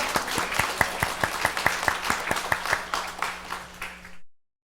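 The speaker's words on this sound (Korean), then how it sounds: "이 땅에 부활하신 예수님께 영광의 박수 올리겠습니다." A church congregation claps in unison during an Easter Sunday worship service, with sharp, evenly spaced rhythmic claps repeating steadily before the sound cuts off abruptly.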